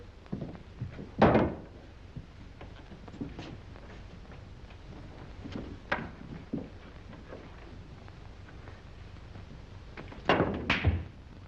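Pool balls clack during a billiards shot in a 1940s pool-hall scene, a few sharp, moderately loud knocks spaced apart with quiet room tone between them.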